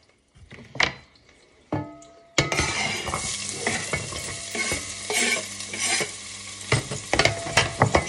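Mutton hitting a hot frying pan for a Romanian potato stew, bursting into a loud, steady sizzle with stirring and scraping of utensils against the pan, preceded by a few clattering knocks.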